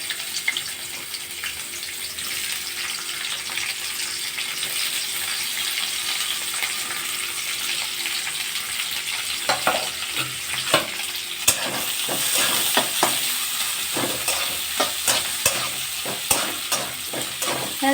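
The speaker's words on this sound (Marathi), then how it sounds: "ह्या चांगल्या 2 ते 3 मिनिटं परतून घेऊ।" Vegetables stir-fry over high flame in about two tablespoons of oil in a kadai, giving a steady loud sizzle throughout. Scraping and tapping from stirring grow busier and more frequent in the second half.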